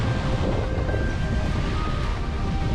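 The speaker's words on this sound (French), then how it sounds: "Il y a déjà pas mal de vent au travers." Wind roars steadily across a sailboat at sea on the way to the Bahamas, a constant broadband rush with rumbling gusts on the microphone and a faint tonal hum underneath. No voices are heard.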